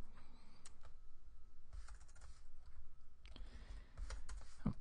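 Someone types an email address on a computer keyboard, close, quiet clusters of rapid key clicks separated by short pauses.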